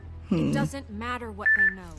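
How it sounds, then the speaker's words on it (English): A phone alarm beeps with a steady high tone under a man's speech, brief and fairly clear against the talking. "Oops, that's the alarm on my phone."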